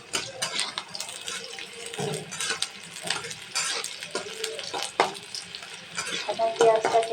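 Onions with green chillies frying in a pan, a steady sizzle broken by repeated scraping and stirring strokes of a spatula, close and moderately loud.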